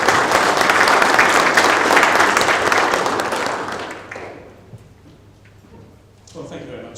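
Dense audience applause for a keynote speaker at a family office investment summit fills the room, then fades out after about four seconds, leaving quiet room noise before a voice begins to speak.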